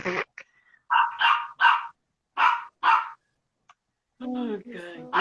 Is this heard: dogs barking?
yes